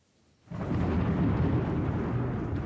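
A thunderstorm with a roll of thunder that breaks in suddenly after a quiet moment and keeps rumbling, deep and sustained, to the end.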